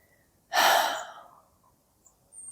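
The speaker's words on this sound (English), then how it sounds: "My breathing's getting better. I'm breathing out more." A person breathes out deeply once, a loud, close, breathy exhale of about half a second that fades into quiet, and a softer breath starts near the end.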